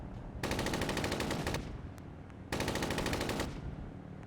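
Two long bursts of automatic gunfire ring out in the military shooter Arma 3, each rapid string lasting about a second, separated by a brief lull with a lone shot between them.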